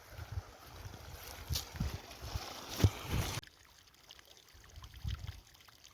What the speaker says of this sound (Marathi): पाणी व्हायला चाललेलं आहे